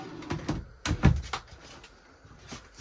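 Pull-out drawers in a 2023 Sierra 3440BH RV are opened and shut, giving several close wooden knocks and sliding thuds in quick succession.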